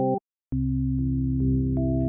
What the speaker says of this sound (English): At the beginning, this synthesizer sounds like this.